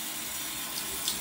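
Tap water runs steadily into a bathroom sink as a child gets ready to brush teeth, a continuous close hiss of flow with no talk over it.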